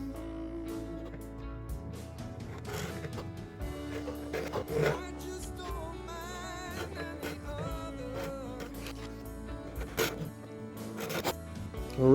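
Small file strokes cut string slots into a Gibson-style guitar nut during an ES 125 restoration, a rapid sequence of short scraping rasps and rubbing scratches up close, with brief pauses and some faint background music.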